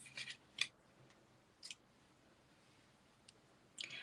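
Scissors trim the ends off a paper card with a few faint, sharp snips spread out over several seconds, heard close against quiet room noise.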